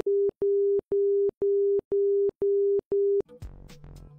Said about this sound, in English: It also produces an audio signal, which is two Morse code dashes per second at a low tone.